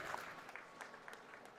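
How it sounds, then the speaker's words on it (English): Faint, thin applause from a pitch-competition audience after a startup presentation, a brief patter of scattered claps heard from a distance. "A round of applause, please."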